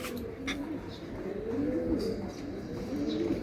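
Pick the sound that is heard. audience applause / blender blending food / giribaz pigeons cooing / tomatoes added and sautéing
giribaz pigeons cooing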